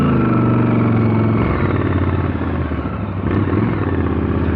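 A 2022 Harley-Davidson Low Rider S fitted with a TBR exhaust rumbles loudly and steadily on a ride, its deep V-twin drone shifting pitch as the throttle changes, close and continuous with no voices.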